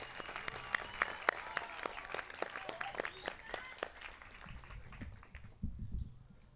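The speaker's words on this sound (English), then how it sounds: "Please join me in a round of applause for our class of 2024 valedictorians and salutatorians." Applause at the Hare High School 2024 graduation ceremony for the class valedictorians and salutatorians: scattered, fairly soft hand claps from a crowd, heard at a distance, thinning and fading toward the end.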